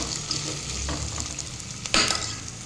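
Drumstick (moringa) pieces fry in a pan of oil for sambar and get stirred, giving a steady close sizzle with a sharp scraping burst of stirring near the end.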